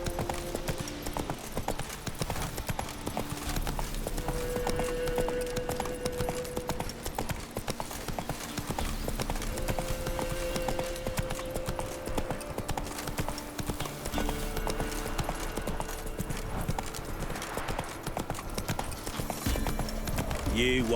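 Roach the horse trots through The Witcher 3 with continuous, even hoofbeat clip-clops and a brief whinny near the end, while a voice talks over the steady gait.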